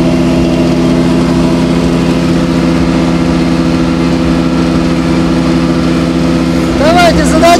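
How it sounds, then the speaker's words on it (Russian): A diesel tracked Caiman Edo 48YD snow blower runs with a loud, steady, droning engine rumble throughout, rising slightly near the end as a voice speaks over it. "Запускаем, ставим пониженную, запускаем снегоротор."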